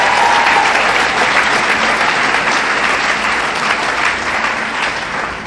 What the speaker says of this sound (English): you guys were clapping for yourselves